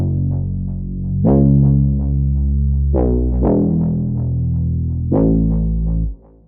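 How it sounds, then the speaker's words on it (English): A distorted, buzzy synth bass plays alone, a few sustained notes with sharp attacks changing pitch every second or two. "But this sound is a cool break bass sound."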